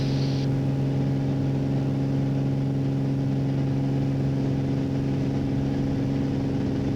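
A light aircraft accelerates down the runway on its takeoff roll on a cold day, its engine a loud, steady droning roar held throughout with no speech.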